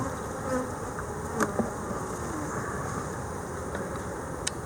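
Honeybees buzzing around an open hive during a spring inspection, a dense continuous drone close by, with individual bees passing near and a few faint clicks of hive equipment.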